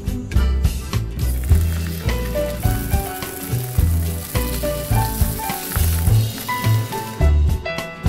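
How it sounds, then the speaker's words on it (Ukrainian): Battered fish pieces frying in hot oil, a steady crackling sizzle with soft bubbling bursts running the whole time, close and fairly loud. "Вмочуємо шматочки риби в отриманому клярі і смажимо до ледь золотистої скоринки."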